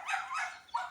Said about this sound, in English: little dog chasing the squirrels